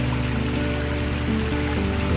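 Water running down a mountainside in the Lanipao rainforest near Cebu City, a steady close rushing wash like a stream or small waterfall, continuous and fairly loud with no talk.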